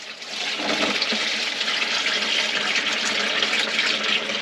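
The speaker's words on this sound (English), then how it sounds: "Alright, so we've got our oil draining." Hot engine oil pouring from the drain of a 2023 Volvo VNL truck, a steady close splashing rush like running water that carries on without a break.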